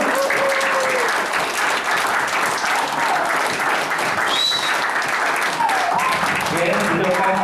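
A forum audience claps warmly for three panel members, dense continuous applause lasting several seconds, with a few faint voices mixed in.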